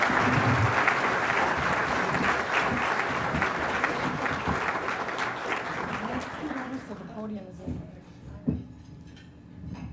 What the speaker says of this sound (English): we just want to give them a huge round of applause and thank them for their service